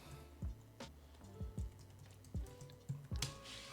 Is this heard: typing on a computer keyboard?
yes